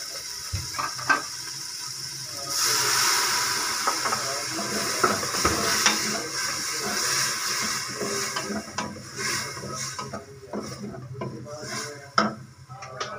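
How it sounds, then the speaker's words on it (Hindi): Tomatoes frying in a pan with ginger garlic paste, splashed with a little water while cooking a mixed vegetable dish; a steady sizzle builds and holds, broken by scraping and stirring clatter from a spoon against the pan. "एक मिनट तक कभी टमाटरों को इसी तरह पकाएंगे हम"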